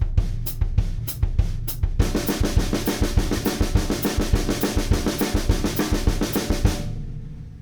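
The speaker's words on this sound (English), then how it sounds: "So if I play the 16th notes over that ostinato," Drum kit playing a steady sixteenth-note figure over a repeating ostinato pattern: a few sparse hits at first, then a dense, even run of sharp strokes that continues for several seconds before stopping.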